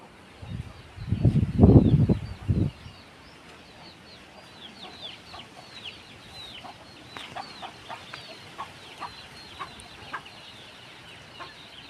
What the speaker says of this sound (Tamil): கொஞ்சம் இப்பப்போ புதுசாக வந்த கோழிங்க